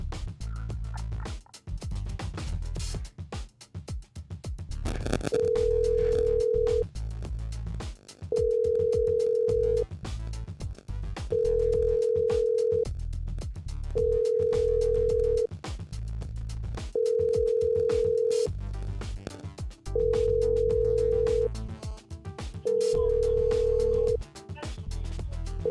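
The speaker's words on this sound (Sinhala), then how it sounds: "එහෙනම් අපි විශ්ව අයියට කෝල් එකක් ගමු." An outgoing phone call rings unanswered: steady ringback tones about a second and a half long repeat seven times at regular intervals, loud and close over a low hum, with no talking.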